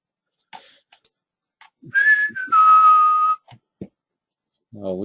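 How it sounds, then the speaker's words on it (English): A tonal whistle from a Melbourne Spring Carnival 2011 live radio show, rising then held in two long steady notes, loud and close, with short bursts of talk around it. "Oh, whistle."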